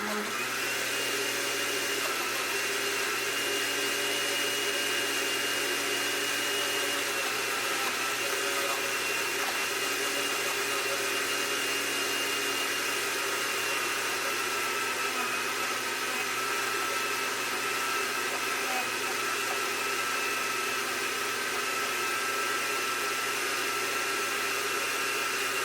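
A Hamilton Beach blender whirs steadily through a smoothie, a loud continuous motor drone with a constant pitch held for the whole stretch, close by and with no voices.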